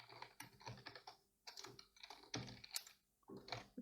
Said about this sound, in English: let me just type a logo